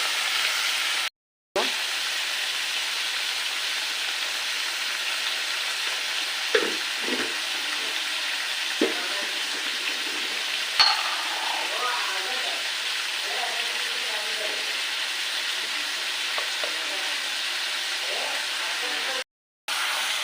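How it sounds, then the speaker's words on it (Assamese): Goat meat fries with spices in a pan, a steady hiss and sizzle punctuated by occasional scrapes and clacks of stirring, with brief gaps of silence. "গোটেইখিনি মাংস একেলগত লৰাই ল'ব।"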